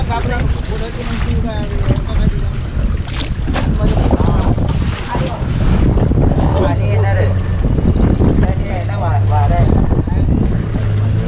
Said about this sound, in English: Sound of waves.